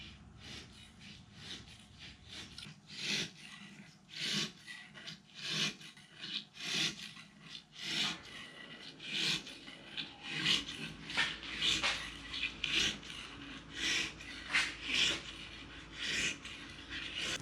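A blade laid flat scrapes and trims melamine edge banding in repeated rasping strokes, close and steady, growing busier and denser toward the end.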